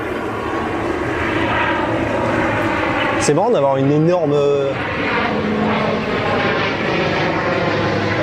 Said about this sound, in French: Il y a un avion qui passe, voilà, sur le ciel d'Abu Dhabi